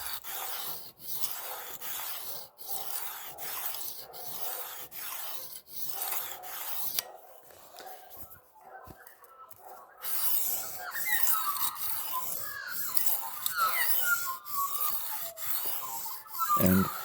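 A knife is hand-sharpened on an inexpensive diamond plate, giving repeated rhythmic rasping strokes. The scraping is close and fairly quiet and runs for most of the clip. It pauses briefly partway through, then resumes in rougher, less regular passes.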